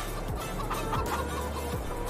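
Chickens in a coop in Farming Simulator 22, clucking in short bursts over a constant loud ambient bed, with no talk.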